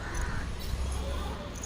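A crow caws a few times in the distance, faint against a steady outdoor background. No one speaks.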